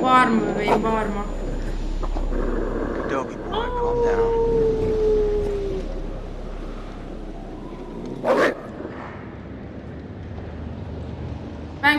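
A dog howls in the video game Until Dawn, a rising then falling drawn-out wail near the middle, heard amid snowy outdoor ambience with a person talking over parts of it.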